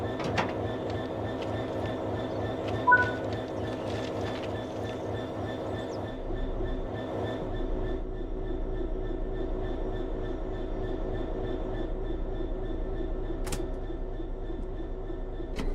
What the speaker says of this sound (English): Now let's head into the locomotive and couple to the wagons.